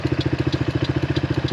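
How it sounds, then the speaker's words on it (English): A HammerHead 250cc go-kart engine runs at a steady idle, a close, loud rhythmic putter with evenly spaced firing pulses and no voices. "The engine actually seems like it's running pretty darn well"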